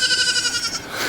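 Goat bleating, a young bottle-raised goat on a backyard garden plot, with a wavering harmonic bleat that pulses rapidly for about a second, close and fairly loud, with no talk over it.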